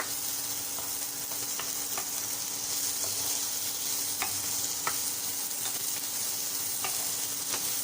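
Onions stir-frying in a pan for chicken in barbecue sauce sizzle steadily and evenly, with irregular light clicks of a utensil against the pan, close by and with no talking.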